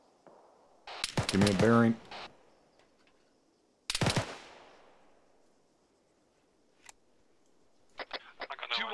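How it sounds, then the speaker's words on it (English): Rifle shots ring out during a military field training exercise, sharp cracks with trailing decay that come as a few spaced reports over the span, mixed with someone talking over a radio. "I'm sending rounds out."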